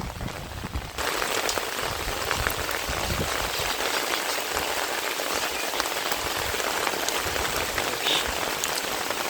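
Steady heavy rain falls and spatters on surfaces outdoors on a farm, a dense, continuous hiss that swells after the first second and stays loud throughout, with no voices.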